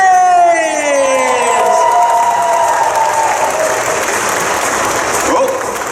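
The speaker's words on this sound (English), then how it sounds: "All you have to do is give applause and love and make our guests welcome" A Comic Con crowd cheers and applauds as a guest comes on stage: loud, dense clapping mixed with whoops and shouts, with an announcer's voice at the start, running steadily for several seconds.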